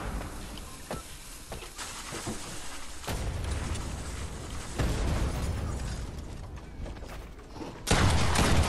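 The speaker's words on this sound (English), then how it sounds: "Someone's throwing nades at me" Grenade blasts in Fortnite during a duos match, several sharp bursts and booming hits with mechanical clatter, the loudest near the end, over constant game noise.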